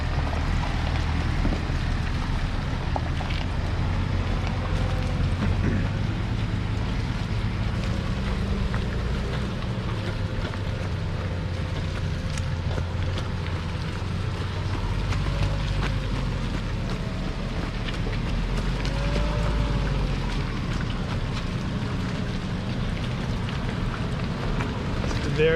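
A Nissan Navara 4x4 grinds through deep mud with a steady low engine rumble and continuous wind noise, loud and unbroken throughout.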